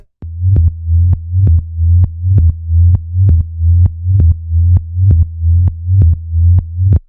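A simple minimal Detroit techno synth bass line pulses in a steady, repeating pattern, each note short and clipped with a clicky attack, played alone.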